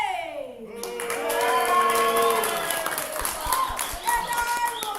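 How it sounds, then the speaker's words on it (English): An audience at an old west melodrama show bursts into applause, a swelling wash of clapping that stays loud, with scattered voices mixed in and a tone sliding down at the start. "winner this evening should be Wyatt Holiday, please give him a big round of applause."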